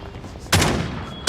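A burst of AK-47 fire from the Call of Duty Mobile video game: a dense, loud volley starts mid-clip and holds for most of a second. A second burst breaks in right at the end.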